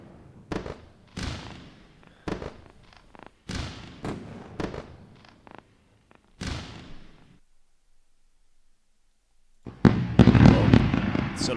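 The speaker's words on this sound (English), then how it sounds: "Let's put out some fireworks." Fireworks sound effect played during a day-trading livestream: a run of sharp, loud pops and bangs for about seven seconds, a brief quiet gap, then a dense crackling burst at the end.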